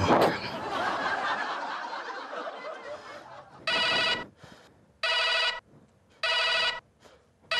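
Laughter and chatter fade out, then a telephone rings in three bright, evenly spaced electronic bursts.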